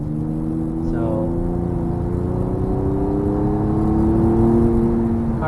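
Honda Accord V6 coupe with a Honda Factory Performance suspension kit and paddle shifters, heard from inside as a steady engine hum and road roar that swells gently as it drives along.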